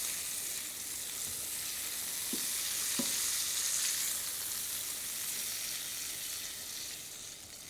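Sausage frying in paprika oil gives a steady close sizzle that stays even throughout, with a couple of brief soft knocks partway through and no talking.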